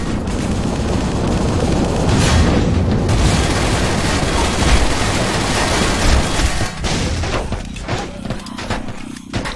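A grenade blast and bursts of gunfire in the zombie shooter Zombie Panic! Source, loud and continuous, with dense booming shots layered together throughout and a brief drop near the end before the firing resumes.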